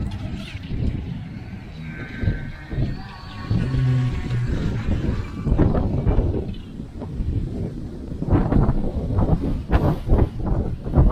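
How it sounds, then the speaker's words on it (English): Wind gusts buffet the microphone beside choppy water where a small brushless RC speed boat runs, a loud continuous rushing roar with fluctuating bursts throughout. "It's starting to get really windy."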